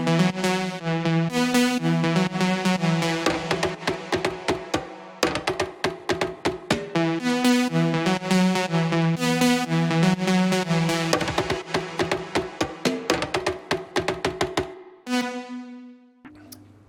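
Afro house percussion drums joined by a lead melody, the tonal lead riding over a dense, driving rhythm of crisp hits, loud and continuous, pausing briefly near the end before a final phrase.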